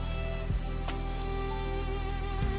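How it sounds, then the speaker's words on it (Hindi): Steady rain drumming and patter, a dense continuous wash of drops with faint soft thumps, heard alone without voices. "कमरे में सिर्फ बारिश की गूंज है"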